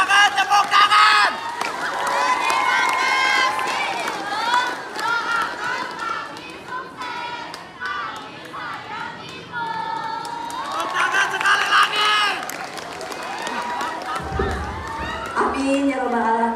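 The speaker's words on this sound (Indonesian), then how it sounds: "Tepuk tangan!" Audience at a school drama performance cheering and shouting, with scattered clapping, loud and sustained, mixed with raised voices throughout.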